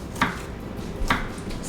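A knife chops raw fish and onions on a board, two distinct sharp knocks about a second apart, close and fairly quiet with no speech.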